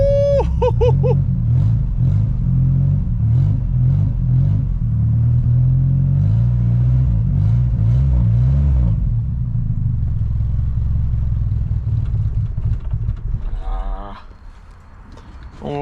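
A 1972 Ford Pinto Runabout engine, an abandoned car, revs hard and steady at close range for about fourteen seconds with a low pulsing drone, then cuts back to a rough, quieter idle.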